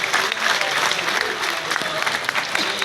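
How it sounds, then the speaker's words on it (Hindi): Dense, enthusiastic applause from an audience at a civic centre gathering, many hands clapping steadily and close, with faint voices mixed into the crowd noise. "एक बार जोरदार तालियां।"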